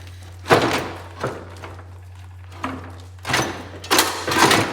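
Heavy clunks and scraping thuds as a Kohler engine is pulled out of a Cub Cadet 1541 mower, several separate knocks spaced irregularly over a low steady hum, close and without talk.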